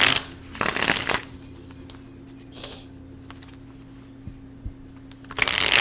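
Tarot cards shuffle in two quick riffling bursts near the start, then quiet handling, and another shuffle burst at the end, close and crisp.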